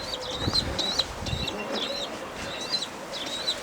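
Young Perdeli tumbler pigeons give repeated short high chirps and squeaks with some wing flutter and rustling, close by, in rhythmic bursts through the whole stretch with no talking.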